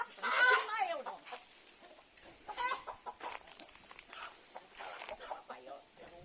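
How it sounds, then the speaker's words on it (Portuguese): A chicken or rooster clucks close by on a small farm, in scattered short calls while children talk over it. "Um frangão, um galo, todo peludão."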